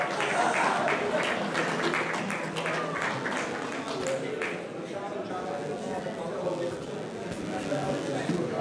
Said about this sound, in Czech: prosím potlesk pro španělštinu a její tiki-taka